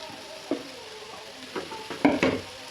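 Soaked, cooked sago stirred into chilli powder in a frying pan, with a soft sizzle and scattered scraping strokes that build into a few louder clatters near the end.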